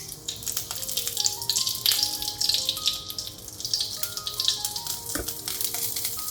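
A halved bay leaf fries in oil with a continuous close sizzle and bright crackle, soft stirring knocks scattered through it, and no voices.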